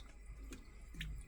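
Water is poured into a soup pot for homemade potato soup, a brief, faint splash and trickle lasting about a second.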